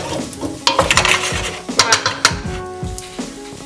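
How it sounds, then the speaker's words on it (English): A spoon scrapes and clanks against a pot as diced potatoes are stirred into softened, frying onion, with irregular knocks and scrapes over a soft sizzle and no talking. "Now you're going to add your potatoes to your onion. And you just want to stir them in to the onion."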